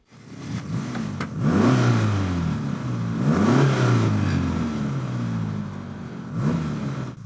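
A 1983 Honda Prelude's 12-valve engine revs up several times in rising sweeps, loud, close and sporty, each rev climbing in pitch and then easing back down.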